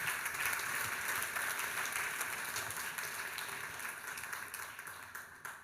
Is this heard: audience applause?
yes